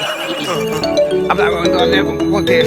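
A mobile phone ringtone plays loudly and close, a melodic electronic tune with bright repeating notes, while a person speaks over it.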